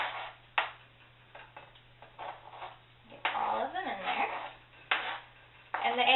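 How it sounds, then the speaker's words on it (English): A spoon stirs eggs into a thickening creamed sauce in a pot, making intermittent scraping and light metallic clinks against the pot in bursts that come close and fairly loud, with a voice talking at times. "So then you just stir in your eggs with the spoon that you used earlier"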